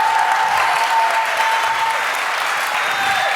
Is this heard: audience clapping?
yes